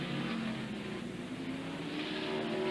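Jeff Gordon's race car at speed on a 1.95-mile road course, its engine a steady, moderately distant drone that holds at a fairly even level for the whole stretch.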